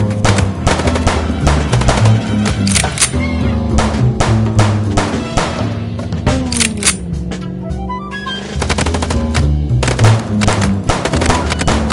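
Dense, loud bursts of automatic gunfire from a shootout in the Chicken Police video game, rapid repeated shots over a rumbling vehicle engine, continuous throughout.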